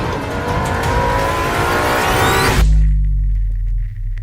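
Ferrari LaFerrari hybrid supercar accelerating hard, a loud rising engine roar climbing through the revs before an abrupt drop to a deep, steady low rumble, close and alone.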